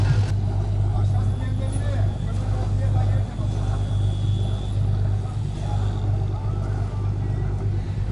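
A tractor hauling a boat trailer at a harbour gives a steady low engine rumble, fairly close and continuous, with faint background noise and no distinct changes.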